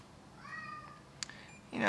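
A single short cat meow, a rising then falling tone, fairly close, followed by a brief click and a burst of rustling noise.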